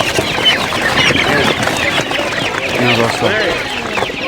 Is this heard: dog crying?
no